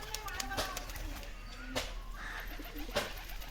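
A pigeon collected from a Dubai market coos in a few soft, repeated low calls, close by with some background noise.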